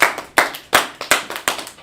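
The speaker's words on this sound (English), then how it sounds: "Let's clap it up in class." Sharp hand claps close by at the end of a religious class session, roughly eight crisp claps in a steady, even rhythm with no talking over them.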